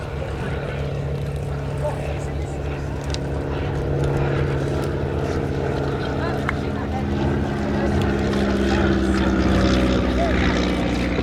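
A Taylorcraft Plus C light propeller plane flies at the East Kirkby Airshow, its engine hum steady and moderately loud and slowly swelling, while a commentator talks over it.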